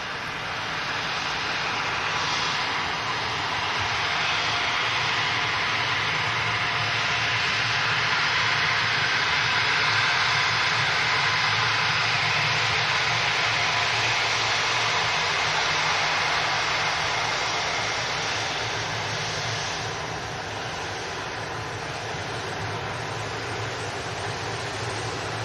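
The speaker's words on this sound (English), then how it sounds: "Executive jet. G550. From Farnborough. Listen in, let's see if we can get any decent audio out of this thing." A Gulfstream G550 executive jet out of Farnborough passes overhead with a loud, steady broadband roar that swells, holds for many seconds and eases off slightly toward the end, with no other sounds over it.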